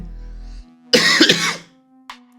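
A single burst of coughing, close and fairly loud, with a brief faint catch of breath after it and no talking.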